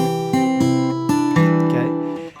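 An acoustic guitar plays a short passage of fingerpicking in a simplified form, a few ringing plucked notes over sustained bass, close and clear with no talking.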